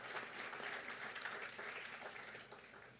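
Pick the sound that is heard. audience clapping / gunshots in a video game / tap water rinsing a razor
audience clapping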